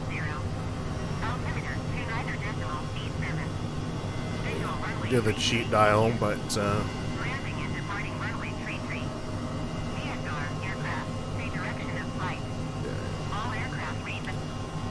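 Airbus H135 helicopter engine in a flight simulator game hums as a steady low drone beneath someone talking close to the microphone throughout.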